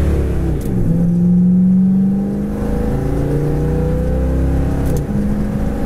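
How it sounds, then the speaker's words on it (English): A 1970 Chevy Chevelle SS revs hard and pulls up through its manual gears, the engine note climbing, dropping briefly at each shift near and far apart, then rising again, loud and continuous with no talking. "We're gonna go through the gears manual here for the heck of it."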